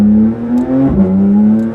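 A Porsche 911 GT3 RS engine revs loud and close, a strong sustained tone that climbs, dips briefly mid-rev and then holds high again, with no talking.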